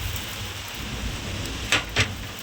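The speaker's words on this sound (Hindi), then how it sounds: "इतना बारिश हो रहा है कि मैं बता नहीं सकती" Heavy rain pours steadily and fairly loud, a dense continuous hiss with a couple of brief sharper splashes or knocks near the end, and no voices.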